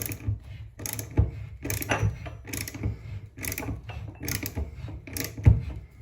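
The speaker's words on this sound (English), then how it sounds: "And then just start ratcheting." Rhythmic ratcheting of a puller tool drawing a stubborn angle stop off a plumbing pipe, a steady series of close, crisp mechanical clicks repeating roughly every half second.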